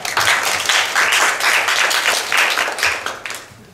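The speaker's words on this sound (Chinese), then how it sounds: "那我们就掌声欢迎冯教授" Audience applause at an international academic conference in Taiwan, a dense steady roar of many hands clapping for about three and a half seconds before tapering off at the end.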